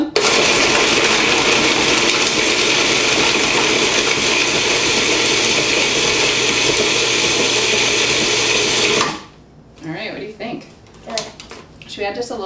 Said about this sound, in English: We've got the trusty old Cuisinart food processor here. We know that this will slice the strawberries for us.